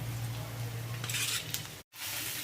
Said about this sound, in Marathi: पोहे छान परतवून घ्यायचे आहे।